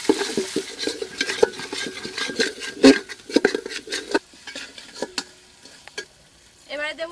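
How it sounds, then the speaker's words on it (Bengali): Spices sautéing in a pan with chopped tomato and a little water for a Bengali vegetarian khichuri, with clattering stirs and scraping over a soft sizzle, plus a sharp utensil knock midway. "মশলাগুলো ভালো করে কষে নেব, এবার দেব টমেটো কুচি, অল্প একটু জল দেব"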